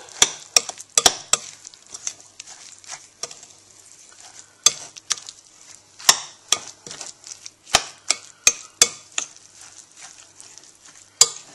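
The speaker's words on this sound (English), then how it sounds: "And just mix it well." Creamy KFC-style coleslaw being stirred in a bowl, with a steady soft wet churning and a run of sharp clinks and taps of the utensil against the bowl, close and alone with no talk.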